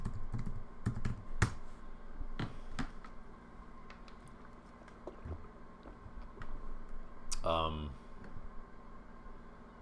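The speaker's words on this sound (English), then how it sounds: "Let me just type it in here." Typing on a computer keyboard, heard as quick clusters of close, crisp key clicks that come and go over several seconds, with a short rustling burst near the end and no talk.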